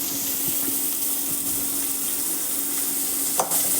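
Small shallots sizzling in a hot pan for a Tamil home-cooked dish, a steady close hiss of frying oil with faint stirring clinks and one brief scrape near the end.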